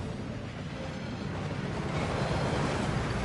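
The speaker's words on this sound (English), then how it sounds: "That waterfall washes away all enchantments." Steady rushing waterfall in the Gringotts vaults of Hogwarts Legacy, a continuous broadband roar that builds slightly in loudness, heard alone without voices.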